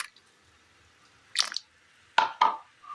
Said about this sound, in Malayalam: ഇതിലേക്ക് ചെറു ചൂടുവെള്ളം ഒഴിച്ച് ഒന്ന് മിക്സ് ചെയ്തെടുക്കാം